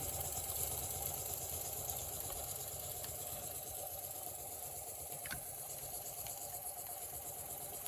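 The Jensen #70 live steam engine with a faux governor runs quietly and evenly, a soft continuous mechanical hum and chuffing with a few faint clicks, heard alone.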